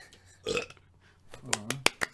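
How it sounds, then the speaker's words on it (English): A single loud burp comes from a man on a podcast about war films, followed by a few sharp clicks and short bursts of sound close to the microphone. "That's why we burp."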